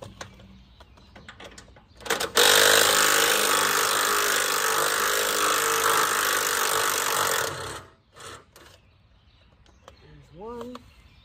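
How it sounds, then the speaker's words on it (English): A power tool removes the bottom radiator bolts from a Farmall A tractor, running as a loud, steady whir close by for about five seconds, followed by softer clanks and a short bit of voice. "start by taking the radiator off. There's just two bolts on the bottom here."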